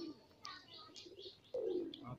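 Madrasi pigeons give short soft coos and murmurs nearby, a few brief calls over about two seconds.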